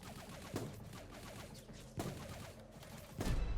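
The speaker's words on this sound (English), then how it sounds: "somebody's shooting at me" Gunfire aimed at the player in a video game, with several sharp shots landing in bursts over steady background game sound.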